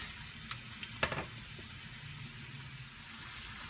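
Onions and green chillies sizzling in hot oil in a pan for a brinjal and green peas curry, a quiet steady fry with a few sharp clicks and spatters near the start.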